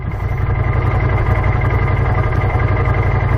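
Right after starting, the 1000cc engine of a side-by-side UTV settles into a loud, steady idle, a close continuous rumble with no speech.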